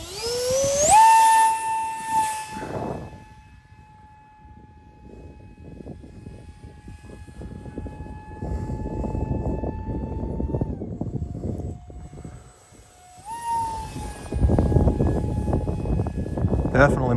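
A MiG-17 model jet on its maiden flight whines overhead, its steady high tone rising and falling as it passes, loud at first, fading, then surging back near the end over outdoor wind noise.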